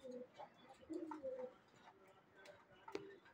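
Soft, low coos from farm pigeons repeat several times at a distance, faint against a quiet background with a few chirps.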